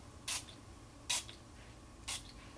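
Three short, sharp spray bursts from a hair shine mist bottle, evenly spaced about a second apart, close and crisp against a quiet room.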